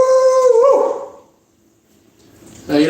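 Stevie, a pet dog, lets out a loud, close howl that holds a wavering tone and then slides down and fades into quiet, before a short whimpering yelp at the end.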